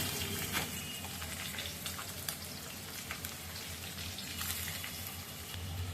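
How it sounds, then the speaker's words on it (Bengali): Fish sizzle steadily in hot oil in a pan, a continuous crackling hiss with small scattered pops, close and alone. "আর ওইদিকে মাছগুলো ভাজা হচ্ছে"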